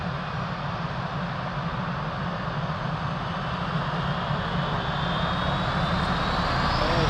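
An airliner takes off from runway 02 at Lisbon Airport in light wind: a steady, loud engine roar that swells gradually, with a rising whine building toward the end and no voices.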